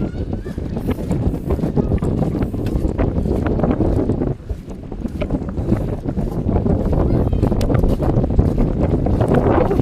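Strong, steady seaside wind buffets the microphone with a low, continuous roar, gusting slightly throughout, while faint voices are partly buried underneath.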